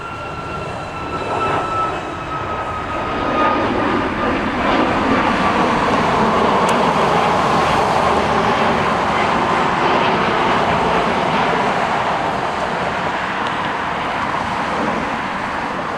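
An Alaska Airlines 737 MAX 9 in San Francisco Giants Lucille livery takes off down the runway, a loud, steady broadband jet roar that swells after the first couple of seconds and holds to the end.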